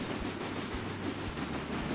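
Train rumbling along the tracks in Railway Empire, a steady loud roar with faint periodic clacks from the wheels, continuous throughout with no talk.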